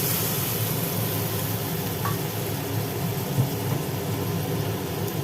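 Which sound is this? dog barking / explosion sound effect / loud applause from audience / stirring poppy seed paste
stirring poppy seed paste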